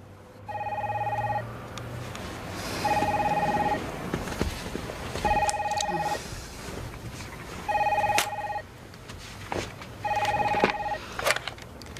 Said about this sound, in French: Et si vous répondiez au téléphone